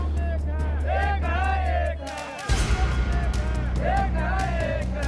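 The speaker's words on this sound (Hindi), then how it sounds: "नगर निगम दफ्तर के बाहर हड़ताली कर्मचारी टायर जलाकर विरोध प्रदर्शन कर रहे हैं।" Striking sanitation workers protest outside a municipal office in Bihar, shouting slogans in loud, rhythmic group chants over a droning rumble and crowd babble, the chanting swelling again after a brief dip.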